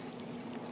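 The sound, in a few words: pouring bentonite clay and cinnamon wash into plastic container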